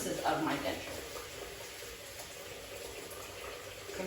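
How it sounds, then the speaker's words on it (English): A denture rinsed under a running tap, giving a steady, close splash of water with a brief louder gush at the start and no talk. "I'm going to rinse my denture underneath running water"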